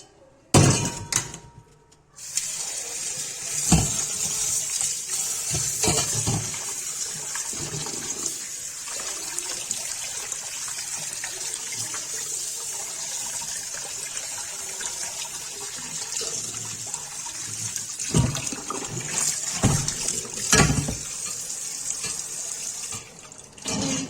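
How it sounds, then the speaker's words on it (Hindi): Raw liver rinsed under a running cold-water tap into a sink, with a steady continuous splashing stream broken by brief pauses and sloshing as the pieces are handled, close and fairly loud. "ठंडे पानी में धो देंगे।"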